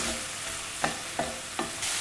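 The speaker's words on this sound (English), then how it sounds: "add 1 red onion, finely chopped. And we're just going to want to saute that a little bit" Chopped red onion sautéing in rice bran oil with a steady soft sizzle, broken by three distinct stirring scrapes of the pan, close up and with no talking.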